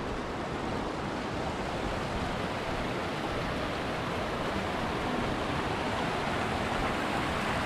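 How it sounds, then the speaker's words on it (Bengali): Water from a waterfall stream in the snowy Langtang Valley rushes steadily, a dense, even broadband roar that holds constant throughout with no voices. "এই ঝর্ণার জলটা গিয়ে মিশেছে কোথায়? ওই যে নদীর জলে, ওই যে নদীটা যাচ্ছে, নদীর জলে মিশেছে।"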